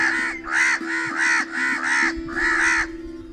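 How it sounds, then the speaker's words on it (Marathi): A crow caws loudly and close by, five or six harsh calls in an uneven series, with a faint steady hum underneath. "काही अंतरावर कावळा आवाज देत म्हणाला"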